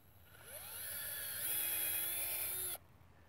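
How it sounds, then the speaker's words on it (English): A power drill bores a hole into a tree trunk for injecting fertilizer or insecticide against emerald ash borer, a steady high motor whine that rises in pitch as it bites into the wood and then cuts off abruptly. "I'm going to drill in."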